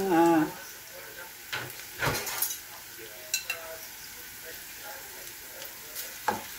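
Chicken pieces going into a hot pan for a spicy pineapple-juice dish, with a loud opening sizzle, then a steady low frying hiss broken by scattered knocks of a utensil against the pan, close by.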